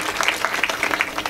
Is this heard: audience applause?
yes